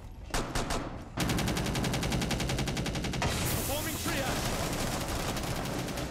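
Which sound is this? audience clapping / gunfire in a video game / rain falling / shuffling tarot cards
gunfire in a video game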